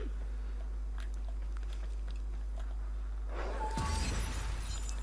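Glass statues shatter in the video game Warframe, a sudden bright crash of breaking glass rising from steady game hum and faint clicks near the end, fairly loud against the background.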